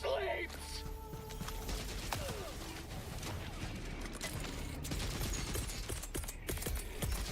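Dense, continuous gunfire in the video game Helldivers 2, with loud rapid bursts and overlapping explosive shots running the whole time under a busy battle din, and chatter mixed in.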